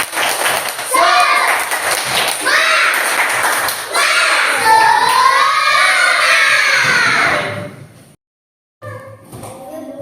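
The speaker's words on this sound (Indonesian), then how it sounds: "Biar lebih semangat, satu tepuk dulu sebelum kita mulai pembelajaran kita." Classroom of children in an Indonesian school chanting a rhythmic clapping cheer together, high young voices rising and falling in short bursts with claps mixed in, loud and close, then a brief silence before a few more sounds.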